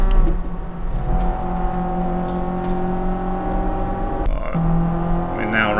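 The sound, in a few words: race car engine in the Assetto Corsa video game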